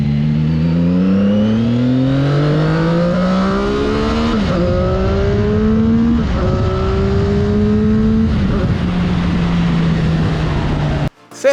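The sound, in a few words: CFMOTO sport motorcycle engine revving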